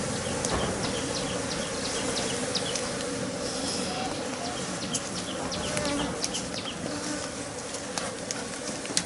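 A dense swarm of honeybees buzzes steadily and close while bees are shaken off a comb frame during honey harvesting, a continuous loud hum with no talk over it.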